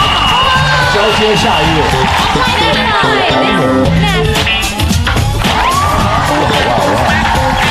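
Studio audience of a variety show cheering and clapping, a loud, dense crowd roar running throughout with whoops, while voices talk over it.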